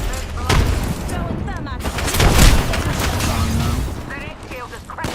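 Video game battle with layered gunfire and a heavier burst near the middle suggesting grenade blasts, a dense continuous din with no clear separate detonations.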